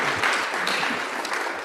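Audience applause at a youth community day event, a brief burst of many hands clapping, fairly loud and continuous throughout.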